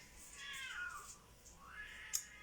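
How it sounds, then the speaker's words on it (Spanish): Visiting cats fighting outdoors, with a drawn-out yowling wail that rises, falls and rises again, followed by a brief sharp squeal, moderately loud over a quiet background. "tengo muchos gatos que vienen de visita y pelean."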